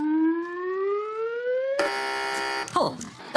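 A quiz show buzzer goes off: a rising electronic tone gives way to a loud, dense harmonic buzz that holds for about a second and then breaks off.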